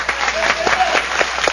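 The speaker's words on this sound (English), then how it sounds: "round of applause for Ben." Studio audience applause for a guest on a live tech television show, a dense, steady burst of clapping from a crowd, close and loud throughout.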